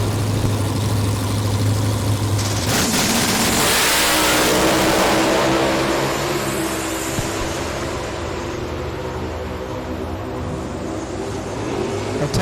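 Drag racing cars, a 2019 Cobra Jet Mustang and a 2021 Dodge DragPak, idle with a low hum, then roar loudly as they launch and revs climb, fading into a steadier distant engine drone.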